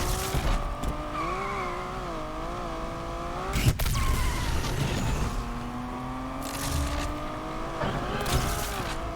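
A race car engine in the Need for Speed driving game revs and drops as it downshifts, with wavering engine tones, a sharp transient near the middle, and tire squeal at moderate level.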